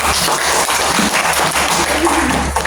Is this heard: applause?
yes